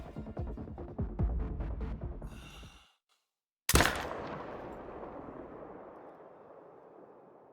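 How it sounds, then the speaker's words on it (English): A single loud rifle shot fired at a desert bighorn ram about 415 yards away at high altitude cracks sharply after a brief silence and rolls into a long fading echo; murmured voices come before it. "Oh my god, what a shot!"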